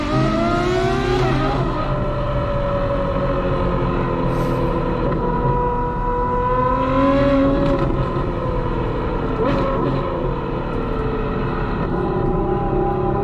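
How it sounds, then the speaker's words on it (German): A Ferrari 812 V12 revs hard in first gear at high rpm, a loud sustained engine note with shifting harmonic pitch that climbs and dips through the whole stretch, close and continuous with no talk. "dieses hohe, wenn er so im hohen Drehzahlbereich ist, der Sound"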